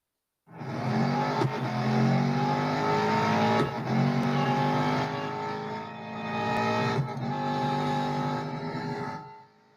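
An Aston Martin Vantage GTE 2017 race car in Real Racing 3 at the Silverstone Grand Prix circuit roars loudly, its engine climbing through gears with sharp shift breaks and dips, alone without talk.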